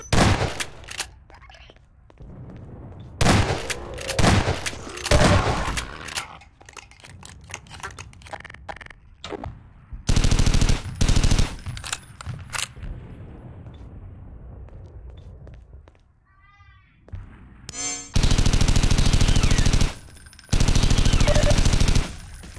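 Gunfire in the zombie video game Mesa Fallback comes as loud, rapid bursts of automatic shots separated by quieter stretches, with several long sustained volleys.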